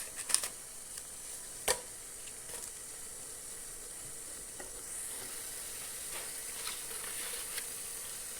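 Water at a rolling boil in a covered idli steamer pot gives a steady soft hiss and bubbling sizzle, with a few sharp clinks of utensils near the start and scattered light knocks throughout.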